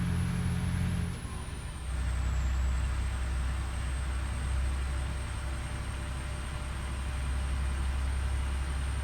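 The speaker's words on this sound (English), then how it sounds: "Jumped behind him a little too soon, and it set off the automatic brake." In American Truck Simulator, a truck's automatic air brake engages while driving an Argosy, a low steady engine rumble with a brief dip and a high whine gliding down then holding, no talk.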